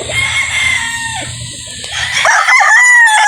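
A gamefowl rooster at the Green Country Game Farm lets out a loud, close crow that rises and wavers, with low clucking and barnyard noise beneath at the start.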